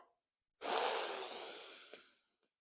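Ujjayi yoga breath exhaled through a constricted throat: a single close, soft, hissing rush of air lasting about a second and a half, tapering quietly into silence with no talking.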